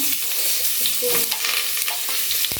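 Chopped onions fry in hot oil for egg biryani, a steady close sizzle broken by stirring scrapes and small knocks from a spoon against the pan.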